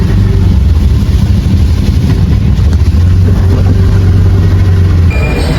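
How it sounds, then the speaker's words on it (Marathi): Busy road traffic in Thane on a rainy day, a loud steady rumble of car engines close by with a continuous low drone throughout. "ठाण्याला पण ट्रॅफिक बघू शकतो"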